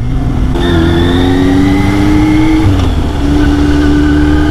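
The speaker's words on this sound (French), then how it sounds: "Il y a une poussée d'accélération lui." A car on a road near Toulouse accelerates hard past 90, its loud, close engine note climbing steadily in pitch with a brief dip around a gear change before rising again.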